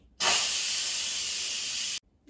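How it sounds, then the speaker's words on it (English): An Instant Pot releasing pressure after cooking chicken gizzards gives a loud, steady hiss of venting steam that starts abruptly, holds for nearly two seconds and cuts off sharply. "so let's quick release the steam."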